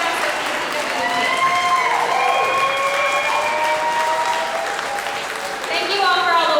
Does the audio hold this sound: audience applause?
yes